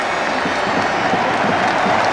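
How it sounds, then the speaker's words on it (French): A football stadium crowd gives a sustained ovation of steady applause and crowd noise for a player being substituted late in a Standard Liège versus Germinal Beerschot match, dense and continuous throughout. "Entendez l'ovation, elle fait chaud au cœur évidemment."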